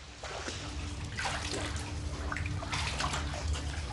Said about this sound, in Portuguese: passando por uma corrente de água